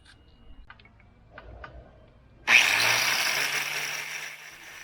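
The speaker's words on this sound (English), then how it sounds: "putting a masonry disc on my angle grinder" An angle grinder fitted with a masonry disc starts up and grinds gneiss stone, a loud, steady, harsh whine that begins suddenly after a few quiet moments of faint handling clicks and carries on to the end.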